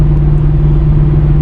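A Pontiac G8 GT V8 with its old exhaust setup drones at steady highway cruise, a loud, even low hum and rumble without revving or speech.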